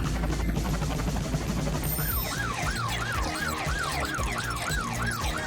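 A police siren wails in a repeating rising-and-falling pattern, loud and steady beside a kindergarten, layered over music and background noise.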